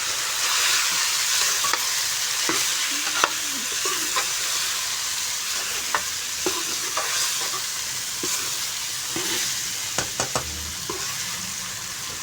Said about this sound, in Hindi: तो अब इस सब्ज़ी को हम अच्छे तरीके से मिक्स कर लेंगे।